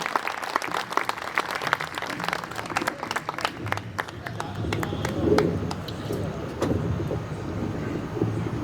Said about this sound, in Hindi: सर एक बार जोरदार तालियों से आवाज दें।